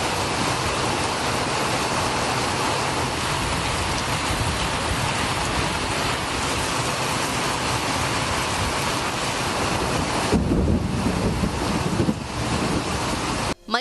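Heavy rain pouring for over an hour in Tamil Nadu towns, a dense, loud, continuous hiss and patter with gusty rumble, steady throughout with a brief dip near the end.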